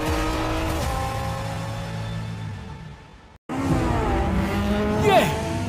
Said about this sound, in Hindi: ये ड्रिफ्ट कर रहा है, वो भी इस स्पीड पे।